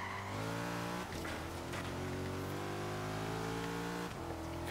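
A Porsche driven in Forza Horizon 3 holds a steady, loud engine drone with rising pitch as it accelerates, broken by two brief gear-shift dips, with no talking over it.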